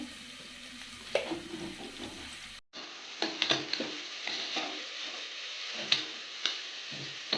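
Onions fry in a pan with turmeric and salt added, making a soft, steady sizzle with scattered ticks and light scraping taps from stirring, fairly quiet and close.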